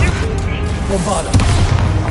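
Bombarda spell blasts in the video game Hogwarts Legacy, heard during a battle: dense, loud booming rumbles that fill the whole clip, with battle noise and voices mixed in.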